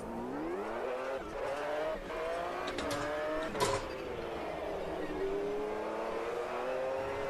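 A race car in Automobilista 2 drives at speed, its engine note rising and falling through gear changes with a brief sharp scrape or tire noise midway, steady and fairly close.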